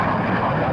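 A Marine jet aircraft roars overhead during a 1966 Vietnam War combat strike: a brief, loud, dense rush of engine noise with no talking.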